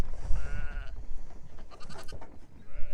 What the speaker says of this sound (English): there are just 4 ewes to go